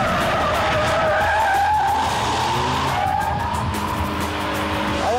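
Tyres skidding and squealing as a car accelerates hard at full steering lock, a sustained loud screech over a revving engine, close and continuous throughout.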